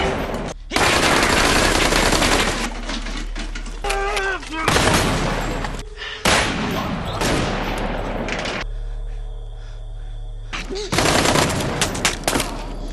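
Machine-gun fire rattles through a Korean action film shootout in rapid loud bursts separated by brief pauses, with a low droning score and shouted voices between volleys.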